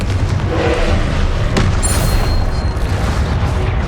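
Spell explosions in the video game Hogwarts Legacy boom in a dense, continuous rumble, with a sharper blast near the middle rising over the steady low roar.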